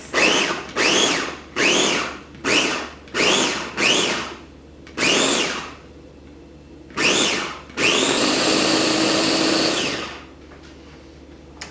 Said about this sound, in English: I added the tomatillos and also half of my cilantro, half of the olive oil, and half of the pepper, and we're gonna blend this